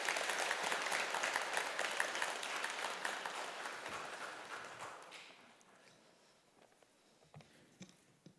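A church congregation gives warm applause to welcome a pastor at a deacons' dedication worship service, steady and full for about five seconds, then thinning and fading to scattered claps.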